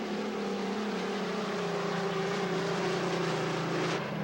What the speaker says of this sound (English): You can hear the Griffin engine rumble as they go into that west turn.